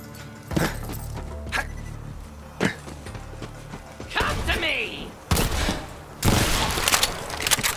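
Gunfire rings out in Borderlands 3, sharp bursts and rattling volleys of shots in uneven clusters with mechanical clatter between them, sometimes under game dialogue.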